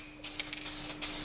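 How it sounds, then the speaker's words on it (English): PlastiDip sprays from an aerosol can in short hissing bursts, close and fairly soft, with brief pauses between sprays and no talking. "You spray that in PlastiDip."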